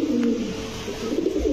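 A red gear pigeon cooing at a pigeon sale, low rolling coos close by and fairly loud across the short moment, with no talk.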